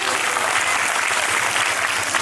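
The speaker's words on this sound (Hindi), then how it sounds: "जोरदार तालियों से इनका स्वागत कीजिए" Loud, steady applause from a school assembly crowd at an Independence Day function welcomes a group of girl students, dense clapping filling the whole moment without a break.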